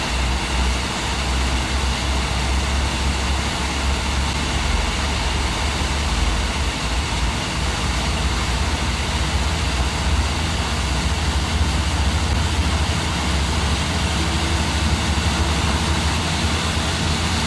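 Boeing 787 engines in a flight simulator game spool up in a steady, dense roar that holds at a constant loud level throughout, with no talking.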